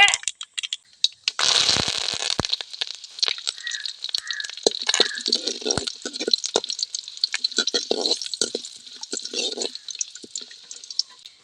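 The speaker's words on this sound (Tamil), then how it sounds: "கடுவை நல்லா பொரிஞ்சு வந்தால் தான் வாசமாக இருக்கும் நல்லா பொரியட்டும்" Mustard seeds splutter in hot oil for a tomato pickle, a dense run of sharp crackling pops that bursts loudly early on and keeps popping irregularly throughout.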